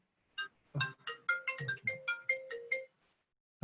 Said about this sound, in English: Sorry, and a mobile that was ringing.